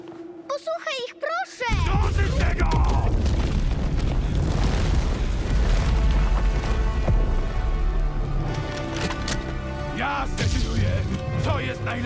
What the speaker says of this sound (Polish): Uważaj na wybuch!